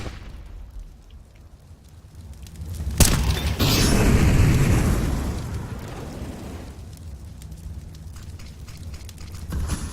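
A flashbang grenade goes off in the Counter-Strike video game with a sudden sharp bang, followed by a loud, drawn-out roaring wash of noise that fades slowly over several seconds.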